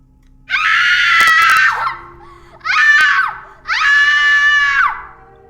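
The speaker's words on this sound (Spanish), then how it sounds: "Abrió la boca para emitir un agudo grito." Shrill, high-pitched screams as a horror-story sound effect: three long piercing shrieks, the first the loudest, separated by short gaps, sounding close and isolated against near silence.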